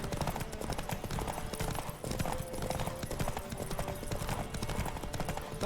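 Horses gallop hard in a race in The Witcher video game, a dense, steady clip-clop of hooves at close range, running continuously with game music underneath and no speech.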